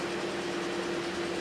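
A car engine with a dead number 4 cylinder misfires from bad compression, giving a steady close-up running drone with a constant tone and faint ticking, clicking underneath for the whole moment, with no voices.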